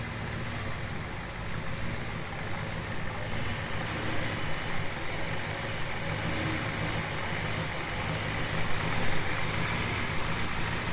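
A 1971 Ford F100 Bumpside barn-find pickup engine running at a steady idle, a continuous low rumble that holds even and unbroken throughout.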